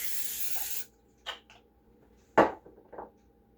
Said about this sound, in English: going to give this a little spray of non-stick